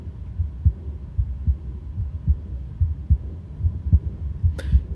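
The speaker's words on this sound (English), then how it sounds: "Maybe that's what they're trying to portray here with the heartbeat" Heartbeat sound effect in the TV series Echo: a steady, low, muffled double thump repeating about once a second, alone and close.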